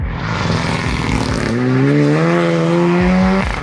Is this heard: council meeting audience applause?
no